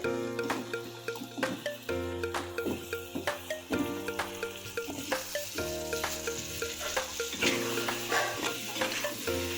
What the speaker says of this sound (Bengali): তেলটা গরম হয়ে গেছে, দিয়ে দিব আলু। এভাবে যদি আলু ভাজি করি